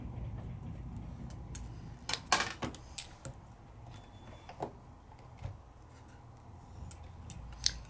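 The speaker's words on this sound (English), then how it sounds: "I'm going to bring over my die cutting machine. I'm going to cut one." A Sizzix die cutting machine cuts a die: quiet low rumbling from the rollers with scattered sharp clicks and ticks of plastic plates and parts, fairly close and without speech.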